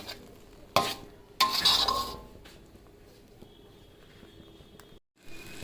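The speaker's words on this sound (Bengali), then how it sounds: "ডালটা কষাতে হবে মিডিয়াম আছে রেখে" Mashed green pea lentil paste stirred in a kadai over medium heat: a few sharp scraping strokes against the pan stand over a faint, steady sizzle, with no talking.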